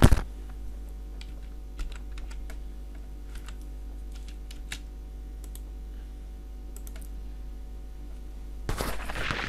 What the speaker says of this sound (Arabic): وتعالوا نكتب كلمة هابي فالنتاين داي نكتبها ونعود إليكم تاني